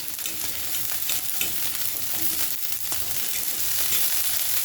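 A T-bone steak fries in a hot pan as its fat renders down, giving a dense, steady sizzle and crackle close up with faint scraping and spattering throughout.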